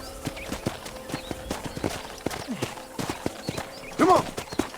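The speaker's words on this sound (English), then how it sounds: "let's see if you can still ride a horse" Rhythmic clip-clop of horse hooves trotting on a ranch in the video game Red Dead Redemption, close and clear, with a short horse whinny near the end.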